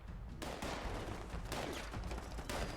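A Gauss minigun fires in Fallout 76, a continuous loud, dense roar of rapid shots with no pauses throughout.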